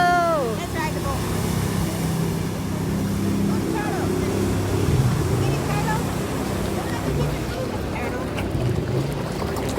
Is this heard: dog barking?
no